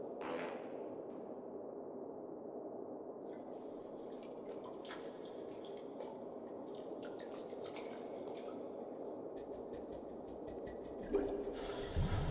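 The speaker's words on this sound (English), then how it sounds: "Water, flow." Water flows steadily through a pipe in the adventure video game Secret Files: Tunguska, a continuous close trickling wash with faint dripping and a brief louder splash near the end.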